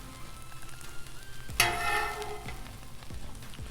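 Eggs hitting a hot Blackstone griddle for a breakfast pizza, a sudden bright sizzle that swells loud and close, then settles into a steady crackling fry.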